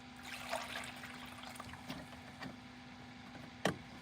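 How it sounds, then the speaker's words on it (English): Water pours into a rinsing bowl at an off-grid desert campsite at Slab City, a steady faint trickle and splash with a few soft knocks from the container, heard alone without talk. "So now I'm gonna fill my rinsing bowl."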